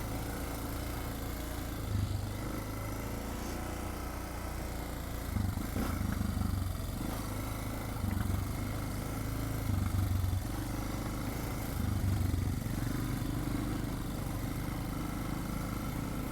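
Suzuki DR650 dual-sport motorcycle running steadily while riding over rocky national forest trails, a continuous low engine drone with slight throttle swells, no talking.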